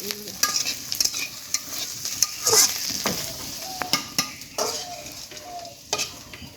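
Vegetables for restaurant-style chowmein stir-fry in a wok, a close sizzle broken by repeated scraping and clinking of a spatula against the metal pan in an irregular rhythm.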